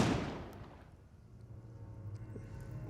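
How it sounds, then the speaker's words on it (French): A gunshot sound effect for a Call of Cthulhu tabletop role-playing session: one loud, sharp report at the start that decays into a rumbling echo, followed by a low, steady droning background with no talk. "Et vous réentendez un coup de feu."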